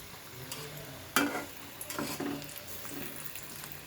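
Mughlai paratha made with egg, flour and mung dal fries in oil in a wok, a soft steady sizzle broken by a few scraping clatters as it is turned over and over.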